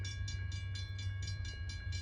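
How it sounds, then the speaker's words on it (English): Eastbound Wheeling & Lake Erie manifest freight train passing on the CSX Greenwich subdivision in Greenwich, Ohio, with a steady low rumble and regular rhythmic clicking of wheels over rail joints, close and continuous. "came another eastbound Wheeling Lake Erie train on the CSX Greenwich sub"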